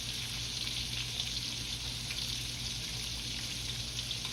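Shrimp deep frying in hot oil give off a constant, fairly soft bubbling hiss that holds evenly throughout, with no voices.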